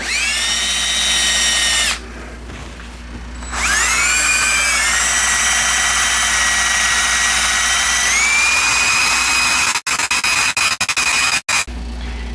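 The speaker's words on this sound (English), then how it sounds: "I'm going to actually do a countersink first" Power drill with a countersink bit boring into a wooden coffee table stand: a loud, close, high whine runs briefly, stops, then runs long and ends in a series of choppy stop-start bursts.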